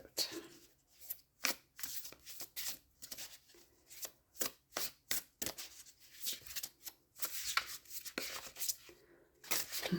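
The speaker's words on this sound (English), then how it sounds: "Very hard deck to shuffle" A large Thoth tarot deck being shuffled by hand, a series of crisp riffling and slapping bursts in an irregular rhythm, close and fairly quiet, with no talk.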